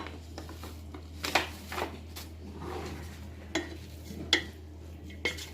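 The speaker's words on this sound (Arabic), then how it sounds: "ايوا نشحروا دابا الحريره ديالنا" Harira soup base being stirred and sautéed in a pot outdoors, with scattered utensil clinks and scrapes against the pot over a soft, steady low background hum.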